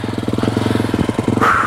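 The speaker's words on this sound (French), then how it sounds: "Toujours bien dégorger sa moto, parce qu'on a tendance à les laisser au ralenti un petit peu" An enduro motorcycle engine is revved hard and held at a steady, rapid pulsing beat to clear it after idling, then rises sharply in pitch near the end, loud and close.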